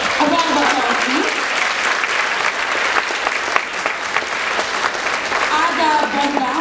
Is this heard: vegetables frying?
no